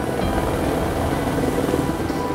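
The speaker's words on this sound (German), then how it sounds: "Der Heli kommt jetzt im Tal." A helicopter flying in an Alpine valley near the Schilthornbahn cable car construction site, a loud, dense, steady rotor and engine roar close by with no voices.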